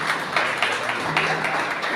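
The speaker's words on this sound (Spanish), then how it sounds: "Vamos a recibir la palabra con un fuerte aplauso" A church congregation at a Sunday communion service applauds with dense, sustained clapping that holds steady for the whole stretch.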